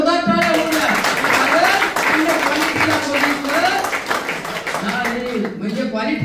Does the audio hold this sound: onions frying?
no